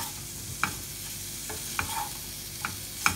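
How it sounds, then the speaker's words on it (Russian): A mixture being stirred in a bowl, a few light, evenly spaced scrapes and taps of the utensil against the bowl over a quiet background, close and soft, with no talking. "Дальше еще раз смешиваю."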